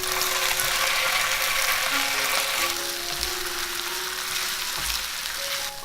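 Potato strips stir-fried with shiitake mushrooms and dried shrimp in a hot wok, giving a loud, steady close sizzle throughout with occasional faint scraping of the spatula.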